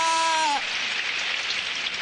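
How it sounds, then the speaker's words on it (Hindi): Rain in a Doraemon cartoon park scene, a steady hissing patter of rainfall that starts abruptly after a brief sliding tone and continues evenly, fairly loud and alone. "अरे ये बारिश।"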